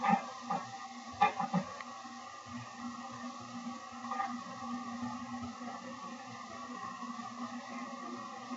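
A person imitates a dolphin with squeaky, whistling vocal noises, a few sharp chirps early then a faint, wavering drone, close and alone.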